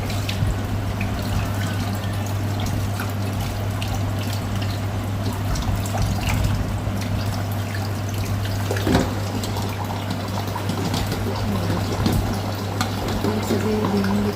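Crabs with their pincers removed are rinsed under a running tap, giving a steady, close splash and trickle of water that continues unbroken, with a low constant hum beneath and no voices.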